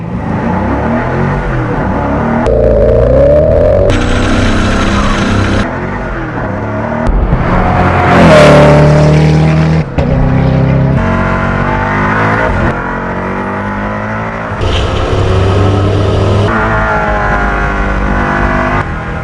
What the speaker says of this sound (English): You have to drive this on the track.